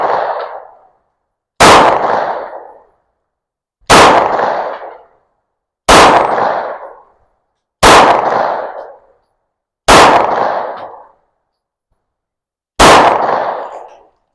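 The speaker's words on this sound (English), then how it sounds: "Now we're going to try and shoot at the dueling tree" Seven sharp, loud Taurus 709 Slim pistol shots fired at a steel dueling tree, spaced roughly two seconds apart, each a hard crack with a short ringing decay and silence between.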